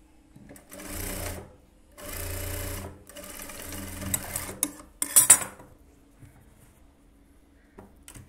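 A sewing machine stitching a blouse runs in three short bursts of whirring, separated by pauses, then a few light clicks and clatters of handling before quiet.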